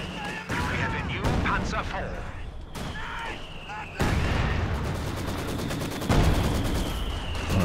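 A heavy mortar and other gunfire in the video game Company of Heroes 2 produce loud, abrupt blasts and rattling bursts against a constant battle din, with voices underneath.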